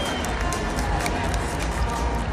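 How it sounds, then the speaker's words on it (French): Crowd at a departmental French Cup handball final applauding both teams, a dense, steady wash of clapping and cheering with no breaks, voices mixed into the noise. "Applaudissements pour les 2 équipes."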